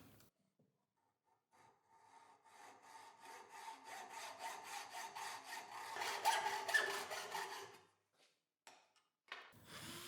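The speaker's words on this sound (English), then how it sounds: "I cut the steel rod to size and sand down the parts that will touch the adhesive" A steel rod is being cut to size in a home workshop, steady rhythmic back-and-forth sawing strokes building in loudness over several seconds before stopping, then a brief scrape at the end.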